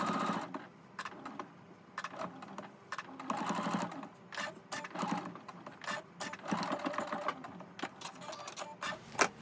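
Sewing machine topstitching fabric: rapid mechanical stitching in irregular bursts and pauses, close and clattery, with no voices.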